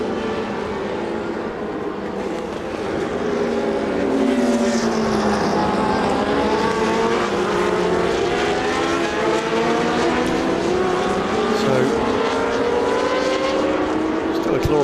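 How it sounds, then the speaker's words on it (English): Several historic racing car engines drone and shift pitch together at moderate revs behind a safety car at the Dubai Grand Prix Revival, a continuous mechanical roar with a faint voice underneath. "Glorious sound, just not quite as high revving behind this safety car"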